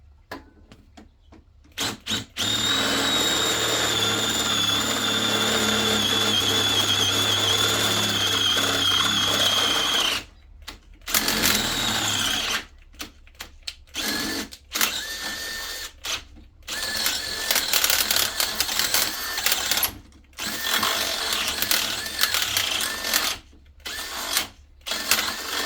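A Makita cordless power tool drilling into thick steel for a trailer hitch step, whining loud and steady for about ten seconds, then cutting in and out in short bursts with brief pauses between.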